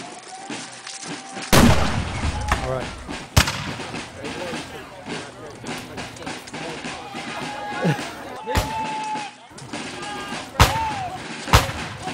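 Civil War reenactment artillery cannons fire during a retreat battle scene, with several loud, heavy booms spaced a few seconds apart amid shouting voices and scattered background noise.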